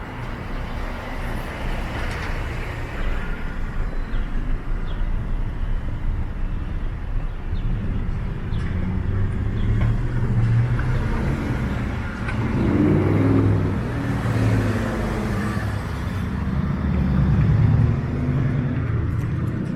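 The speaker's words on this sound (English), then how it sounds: "So cars tend to speed along here." Cars speed along five-lane Jarvis Street in downtown Toronto, a steady roadway rumble with passing vehicles swelling louder now and then, heard from the sidewalk without talk.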